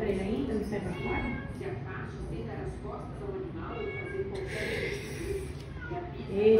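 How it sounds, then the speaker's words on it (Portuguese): A domestic cat meows repeatedly at close range in a home while a person talks over it, the cries rising and falling amid steady speech. "Esse João tá muito miado."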